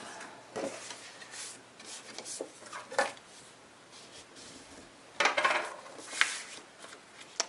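Cardstock is trimmed for a handmade card, producing soft, close scraping and slicing strokes in scattered short bursts with quiet gaps between them, the loudest cuts coming near the end.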